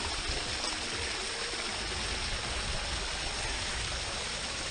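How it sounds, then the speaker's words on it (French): Water from a stream at Loterie Farm on Sint Maarten rushes steadily and close by, a continuous broadband flow with no voices over it. "Alors l'eau, elle arrive d'un ruisseau"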